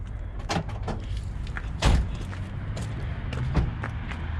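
Car doors at an auto auction thud shut, several solid slams spaced a second or so apart against a faint outdoor background.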